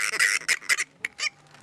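A young Seychelles fruit bat calling up close, a string of harsh, nasal honking squawks in uneven bursts, with a few quieter calls after short pauses.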